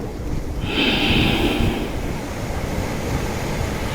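A long, steady breath pushed out through the nose during a slow yoga-like forward movement, a soft rushing exhale that swells near the start and then fades into faint background hiss.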